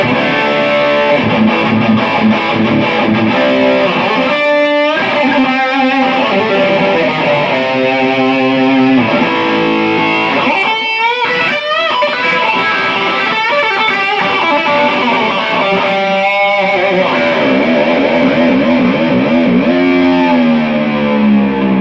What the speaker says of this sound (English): here's the distortion sound on the Dot FX7